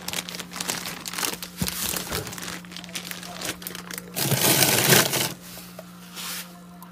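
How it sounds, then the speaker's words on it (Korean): Plastic zipper bags holding portions of frozen raw duck dog food are handled close by, giving steady crinkling and rustling with a louder burst of crumpling near the end, over a low steady hum. "지퍼백에 보관을 합니다."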